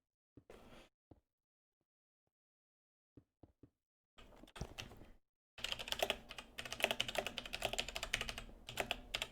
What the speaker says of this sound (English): Sorry, typing away.